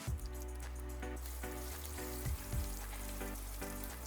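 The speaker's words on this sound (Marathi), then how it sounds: "लसूण फोडणीत परतून घेते" Ten to twelve crushed garlic cloves sizzle and crackle in hot oil as the tempering for tomato rasam, a steady close frying hiss with scattered pops throughout.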